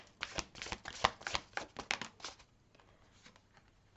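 Tarot cards of the Light Seer's deck being shuffled by hand, a quick run of crisp riffling bursts that taper into softer, sparser flicks, close and alone.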